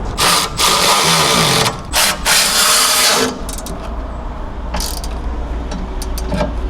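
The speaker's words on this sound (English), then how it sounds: "We're gonna tighten our sway bar on now that we have everything in place." Ratchet tightening rear sway bar bolts under an MK8 Golf R, heard as loud bursts of rapid clicking and mechanical rattle, followed by quieter low ratcheting and clicks.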